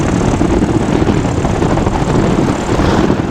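A Sub 70 flexwing microlight aircraft flies by close and loud, its propeller engine producing a steady buzzing drone across the whole moment.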